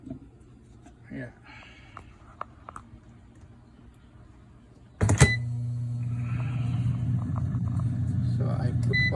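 An air fryer preheating for chicken brochettes starts at about five seconds with a click, then settles into a steady, loud fan hum and whir that runs continuously to the end. Faint handling noises come before it.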